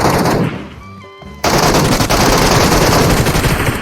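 Automatic gunfire in the mobile battle royale game PUBG Mobile crackles in dense rapid bursts, broken by a short quieter gap with tonal game effects before the loud firing resumes and continues to the end.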